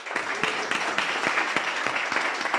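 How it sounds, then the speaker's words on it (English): An audience at a startup venture-building event applauding, a short burst of dense, even clapping close by with a steady rhythm. "Please give him an applause."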